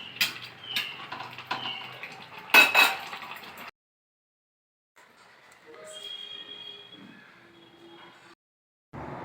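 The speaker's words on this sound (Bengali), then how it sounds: "এবার আমি তরকারিটা নাবিয়ে নেব" Metal clinks and scraping of a pot being handled and lifted off a stove while making a Bengali fish curry with cauliflower and potato, a few sharp clanks followed by quieter rattling and short silent gaps.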